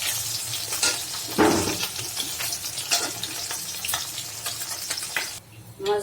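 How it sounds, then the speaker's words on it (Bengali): Stinging catfish fry in hot oil in a home kitchen, a steady fine sizzle with occasional louder pops and stirring clatter at moderate volume, fading briefly near the end. "তো আমি শিং মাছটা ভেজে নিচ্ছি।"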